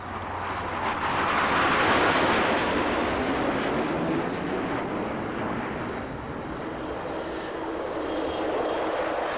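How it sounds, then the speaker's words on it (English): A B-52 bomber makes a fast pass over an airfield at a 1990 air display, its heavy jet roar filling the whole span, swelling loudest early and then holding as a broad, steady rumble. "here's the B-52, not in need of fuel today, but back for a fast pass by the airfield."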